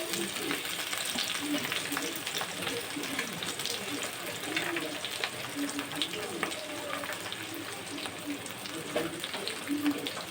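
Cooked greens and lentils, squeezed out, go into a sizzling onion seasoning in a pan, giving a dense, continuous crackling fry that stays fairly even throughout.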